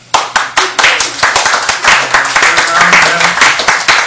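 A comedy-show audience claps in a quick, rhythmic beat, loud and close, with some chatter and laughter underneath.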